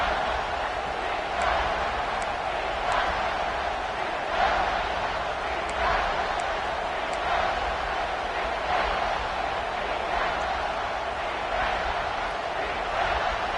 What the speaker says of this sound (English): This dog crowd is off the leash, and they are coming after them, bringing noise on third down